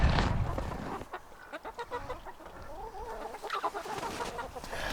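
Chickens clucking and squawking inside a coop, several birds calling in quick overlapping bursts close by, with rustling and shuffling underneath and a louder flurry near the start.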